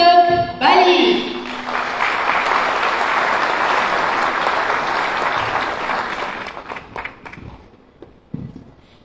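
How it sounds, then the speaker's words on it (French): Loud audience applause at an awards conference, beginning after a brief voice and sustained evenly for several seconds before thinning out into scattered last claps. "sous vos applaudissements, accueillant M. Moussadok Bali."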